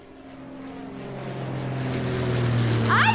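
An airplane flies overhead, its engine drone swelling steadily louder as it approaches, ending with a brief higher whine, with no talk over it.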